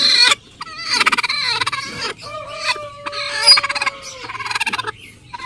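Bantam hen, a Cornish and Modern Game bantam cross sitting on a clutch of seven eggs, gives a run of close clucks and drawn-out squawking calls with a rising and falling pitch, alone with no talk.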